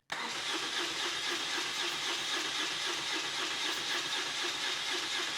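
A motorcycle engine cranking but not starting after a full battery charge, a continuous close churning whir that holds steady for several seconds without catching.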